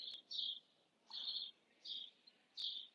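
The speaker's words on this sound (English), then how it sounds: "some people find really relaxing listening to sounds like the birds are chirping in the background around me" Faint birds chirp in four or five short, evenly spaced bursts against a quiet outdoor background.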